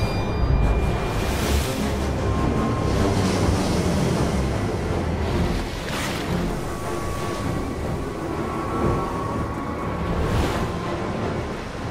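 Heavy storm surf pounds a rocky shore, a loud continuous roar of crashing waves with swells rising around two, six and ten seconds.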